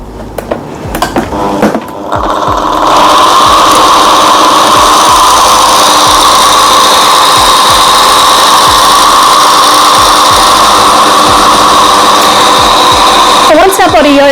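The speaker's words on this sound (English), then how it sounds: "now I'm just swapping out the rotostator for the turbo agitator tool, and we're going to continue stirring whilst it is cooling down" A turbo agitator tool stirring cooling body shimmer yogurt gives a loud, steady mechanical whir with a high motor whine that holds for about twelve seconds, with clatter at the start and end.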